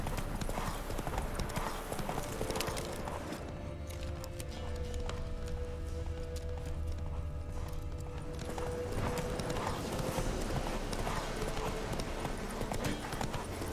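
Roach the horse galloping in The Witcher 3, steady rapid hoofbeats clip-clopping close up for the whole stretch, with a brief whinny partway through.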